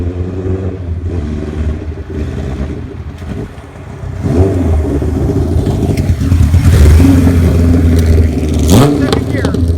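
A 1977 Kawasaki KZ1000 motorcycle engine runs close by, climbing through revs in rising sweeps with mechanical clatter, while people talk over it.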